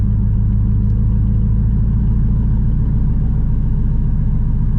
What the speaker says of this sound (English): Obviously, we go into track. You can kind of hear the valves open.